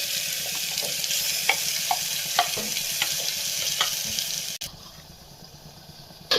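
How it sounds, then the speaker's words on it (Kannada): Ground masala fries in hot oil for jackfruit chops, a steady close sizzle broken by scattered soft scrapes of a spoon, then shifting to a thinner, quieter hiss for the last couple of seconds. "ಮಸಾಲೆ ಎಲ್ಲ ಗಮ್ ಅಂತ ಬರಬೇಕು ಅಲ್ಲಿವರೆಗೂ ಫ್ರೈ ಮಾಡ್ಕೊಳ್ಳೋಣ"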